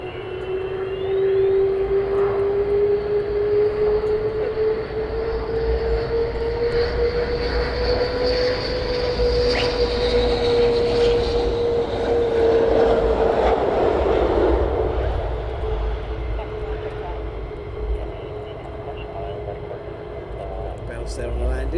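A Lockheed C-130 Hercules drones steadily in the distance near an RAF airbase, a sustained low engine hum with a slowly shifting tone that swells mid-clip and then eases, continuous throughout.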